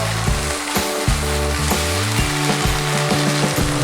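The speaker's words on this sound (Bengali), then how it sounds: "ফ্রাইড পটেটো, ওইটা আমি এতে ঢেলে দেবো পুরোটা। এটা আমি নাড়িয়ে দেবো।" Fried potatoes hit a hot pan and are stirred, crackling sizzle with repeated scraping clatter of a spoon against the pan in an uneven rhythm.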